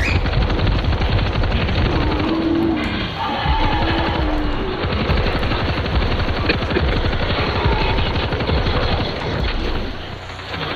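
Sustained automatic gunfire in World War Z during the Jerusalem chapter, loud rapid bursts layered with impacts and crashes, nearly continuous for the whole stretch, with faint voices underneath.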